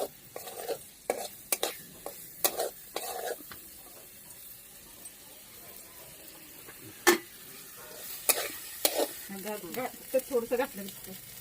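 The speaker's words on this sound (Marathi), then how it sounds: "त्यात तेल टाकले मसाला परतून घेते" Mutton masala frying in oil in a wok, with sharp irregular scrapes of a spoon stirring against the pan over a quiet sizzle.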